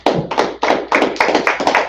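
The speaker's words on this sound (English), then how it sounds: "Clap it up for him." Small gathering at a Sabbath service clapping in a steady rhythm, about six or seven distinct close claps, with no talking over them.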